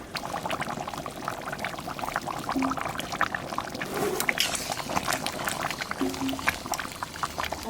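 A pot of thin desi chicken curry with potatoes bubbles uncovered on the heat, giving a soft, steady liquid burble and gentle popping, low and continuous.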